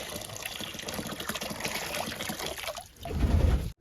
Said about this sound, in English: Fresh, cold water.